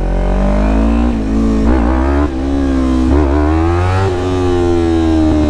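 A Yamaha R3 motorcycle engine revs repeatedly during low wheelie attempts, loud and close, with rising and falling surges of pitch and no talking.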